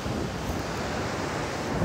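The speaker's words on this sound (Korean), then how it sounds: "파도도 굉장히 좀 세고요" Strong sea waves crash and roar continuously during Typhoon Maysak, a dense, steady wash of surf with wind buffeting the microphone and no voices.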